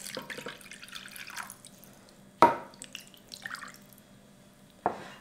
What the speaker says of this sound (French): on vient rajouter l'équivalent de 200 ml d'eau